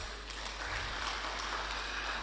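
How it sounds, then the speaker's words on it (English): Applause from an audience at the launch of an electoral integrity network, a faint, dense, steady patter of many hands clapping with a low hum underneath. "Another round of applause"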